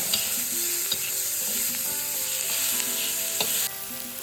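Onion frying in hot oil for a cluster bean (gavar) vegetable dish, a steady close sizzle with a few light utensil clicks and stirring scrapes, with no voices.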